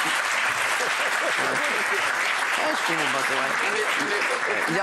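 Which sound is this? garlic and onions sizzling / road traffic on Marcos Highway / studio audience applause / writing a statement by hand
studio audience applause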